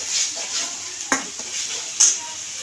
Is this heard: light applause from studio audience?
no